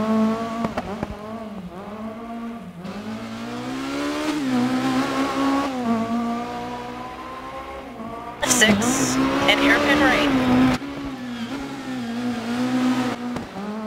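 Rally car in DiRT 4 on a twisty stage, engine revving and shifting through rising and falling pitches with a burst of tire squeal and gravel noise midway, loud and close, with someone talking over it.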